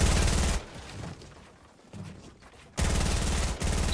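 Loud, dense bursts of automatic gunfire in Fortnite, aimed at a built ramp, with a sustained volley at the start, a quieter gap with scattered shots, then another heavy burst at the end.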